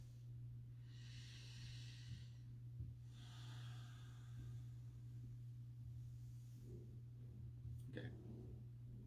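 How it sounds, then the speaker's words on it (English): Two slow, deep breaths taken during meditation, each a long airy inhale-exhale rush heard close over a steady low hum, followed by a short sniff near the end. "Deep breath."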